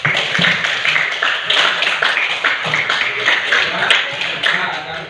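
Classroom students clap their hands together in a lively, dense burst of many overlapping claps that carries on steadily for several seconds, close and fairly loud.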